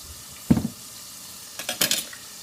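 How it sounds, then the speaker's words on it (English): Frozen onions and peppers fry in a pan as they are stirred, giving two short bursts of sizzling and scraping, close by, with quieter moments between them and no talking. "And we're gonna just let them fry."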